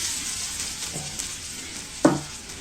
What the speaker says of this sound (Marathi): मी ते मगासारखं परत पॅनमध्ये थोडंसं तेल घातलंय आणि आता हे जे आपण भांगोळं काढलंय ते आपण परत पॅनमध्ये घालूया